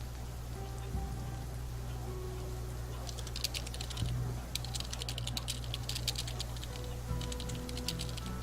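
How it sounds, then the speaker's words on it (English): Soft, irregular clicking of keys being typed on a keyboard, faint and close, over a steady low hum. "Looks like he's typing something."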